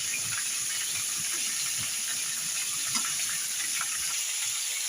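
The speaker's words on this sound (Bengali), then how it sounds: "আলু কটা ফ্রাই করার জন্য হাই টু লো ফ্লেমে আমি আলু কটা ফ্রাই করে নেব" Potatoes fry in oil over a flame turned from high to low, giving a continuous airy hiss and sizzle with faint bubbling underneath.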